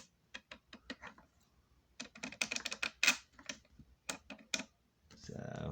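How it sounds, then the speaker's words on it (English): Large-toothed ratchet wrench from a toolbox being worked back and forth, giving quick runs of crisp, close clicks in uneven bursts, each tooth audible, alone without talk. "Get it out and click it. See if you can hear it click."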